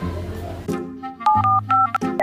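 A phone number is keyed in: several clear dual-tone dialing beeps sound in an even sequence after a few softer taps, close and distinct with no talk over them.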